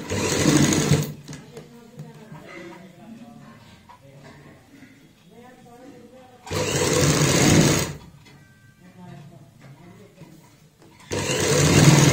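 Sewing machine stitching piping along the curved seam of a fabric sleeve, running in loud bursts at the start, middle and end, separated by quieter stretches with a person talking in Hindi.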